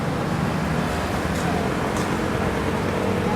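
Night road traffic on a busy street, a continuous low rumble of passing cars with a couple of brief higher hisses, moderately loud and steady with no break.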